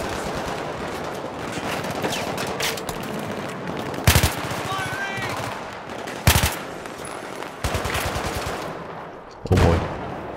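Sustained automatic gunfire in a Battlefield 3 campaign battle, loud steady bursts with several sharper heavy blasts spaced through the stretch.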